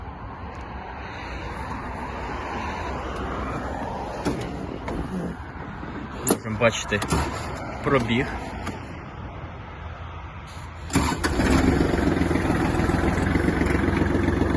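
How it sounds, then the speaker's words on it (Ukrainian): A Kubota GL 21 Japanese mini tractor engine turns over late on and settles into a steady, loud idle, after a stretch where someone talks over a low background rumble. "Давайте заведемо даний трактор."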